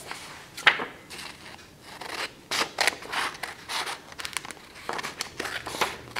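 Scissors snipping through folded paper to cut a corner bookmark, a series of crisp, irregular close cuts with light paper rustling between them.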